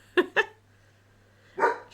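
Kiki the dog gives two quick sharp barks in a row, then a short pause and a third, broader bark, fairly close and loud indoors, with a faint steady hum underneath.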